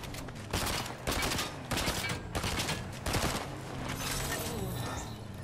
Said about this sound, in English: Shoot him. I'm shooting.